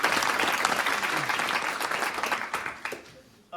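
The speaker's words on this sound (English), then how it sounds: "So let's give him a round of applause." An audience at a maritime science education center welcome ceremony gives a round of applause, dense clapping that stays steady and then thins out and stops near the end.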